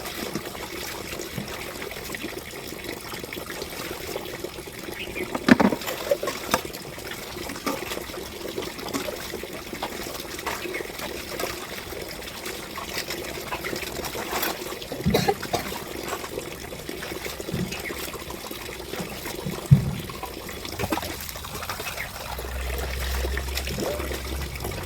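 Water trickles and splashes softly as hands move in cold water, a continuous faint flow with a few sharper splashes and knocks, heard close without speech.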